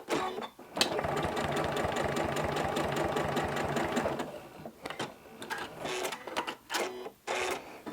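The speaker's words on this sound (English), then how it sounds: "I'm just going to put down a line of stitching across it" A sewing machine runs a steady, fast line of stitching across a quilt for crosshatching, a loud continuous mechanical whir with rapid needle clatter, then stops and gives a few short bursts near the end.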